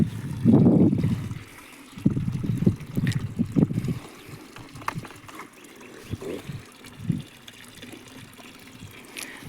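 Two calves drinking water after standing in the sun, close irregular slurping and sloshing gulps in bursts, louder early then fainter and sparser, no talk.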